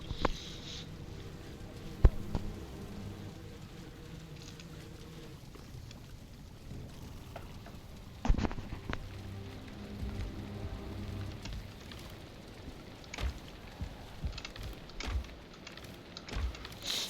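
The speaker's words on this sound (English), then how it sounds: "Okay, so rainy." Rainfall in the Viking survival game Valheim, a steady soft hiss of drops on surfaces with occasional louder patters and thumps, fairly quiet and continuous with no voices.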